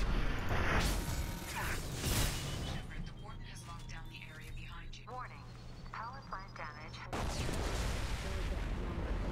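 Shotgun blasts in the game Mass Effect 2, heavy booming shots at the start and end around a stretch of in-game voices and mechanical sounds, loud and close.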